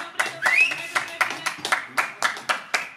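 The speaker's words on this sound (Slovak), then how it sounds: "A my mu dajme potlesk Peťkovi." Crowd at a strongman contest clapping for a competitor named Peťo: steady rhythmic claps under an announcer's voice, with a whistle rising through the middle.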